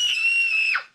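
A young girl's high, sustained scream from a scene in the film E.T., one loud continuous shriek lasting about a second before cutting off sharply.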